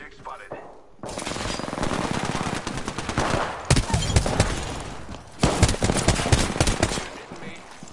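Rapid automatic gunfire in a video game, loud bursts of machine-gun fire filling most of the stretch with a brief pause after the opening and a renewed volley near the end, with game voice callouts mixed in.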